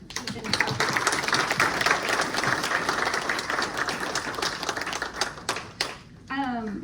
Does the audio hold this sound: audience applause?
yes